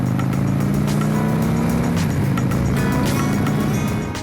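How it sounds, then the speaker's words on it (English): A Victory Gunner V-twin motorcycle engine runs steadily and loudly up close, its deep, lumpy idle pulsing evenly throughout with no voices. "I do like the sound of a V-twin in the morning."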